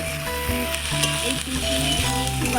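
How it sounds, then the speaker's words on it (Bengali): Prawns for pakoras fry hard in hot oil, a loud continuous crackling sizzle with steady bubbling, under a faint tonal hum and occasional clinks of stirring. "প্রচুর ভাজা হচ্ছে, প্রচুরটা ভেজে নিয়ে করবো আমি"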